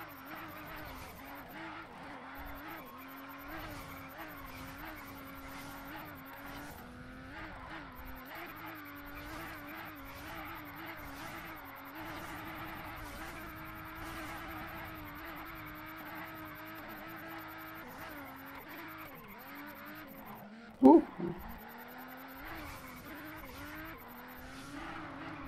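A car drifts in a racing video game, its engine humming steadily under intermittent tire squeal. A sudden loud burst near the end stands out against the otherwise even level.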